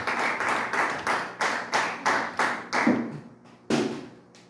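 A church congregation claps steadily in rhythm with sharp, even claps about three per second. The clapping pauses briefly, then one last loud clap comes.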